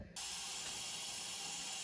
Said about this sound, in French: il y a la fin de cuisson et toute la vapeur de la cuisson, elle sort par, il y a un bouchon derrière